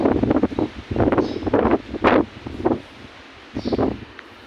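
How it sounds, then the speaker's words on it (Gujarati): Strong outdoor wind hits the microphone in repeated heavy gusts. The loud buffeting bursts come and go about every half second to a second, with quieter gaps between them. "પવન બહુ જોરદાર છે."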